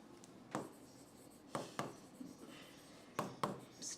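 Chalk or marker strokes on a classroom board: a few short scratchy bursts spaced about a second apart, close and moderately loud over faint room noise.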